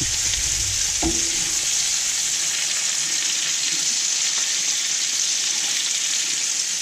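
Trout browning in a hot pan gives off a steady, loud sizzle and crackle that runs the whole time, with one brief clink near the start and no talking.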